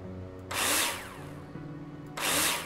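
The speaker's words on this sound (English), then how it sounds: "Now place them in the holograms and screw them in with a drill." A power drill screwing wall profiles into place in the Builder Simulator video game, with two loud, close whirring bursts of about a second and a half and half a second, separated by a quieter pause.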